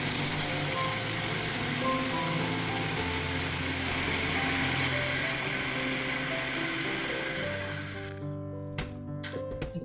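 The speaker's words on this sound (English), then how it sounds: "So I use a food processor to process it into breadcrumbs." A food processor grinds cream crackers into breadcrumbs, a loud continuous motor whir with a rattling, churning texture, close by, cutting off near the end.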